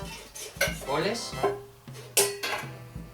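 Kitchen mixing bowls, including stainless steel ones, clatter and clink as they are handled, with several sharp metallic knocks and a ringing tone heard under a speaking voice.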